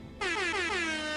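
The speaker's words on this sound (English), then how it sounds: "I set up an air horn button" An air horn button in the video game Shardlight blares once, a loud sustained harmonic blast that starts abruptly and holds steady with a slightly wavering pitch.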